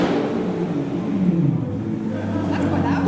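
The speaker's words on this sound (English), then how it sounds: "now it's time for the 7 Series to do some V12 sounds" A BMW 7 Series V12 engine revving hard, the pitch sweeping up and down, with a few voices murmuring in the background.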